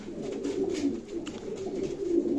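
Pigeons from Çankırı, Ankara tumbler breed, cooing softly and continuously at close range, a low murmuring burble with no talk over it.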